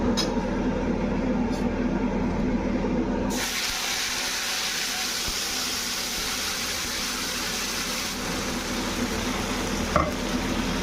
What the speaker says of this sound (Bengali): এবারে কড়াইতে আমি তেলেতে 5 ফোড়ন, জিরে, শুকনো লঙ্কা, তেজপাতা দিয়ে দিয়েছি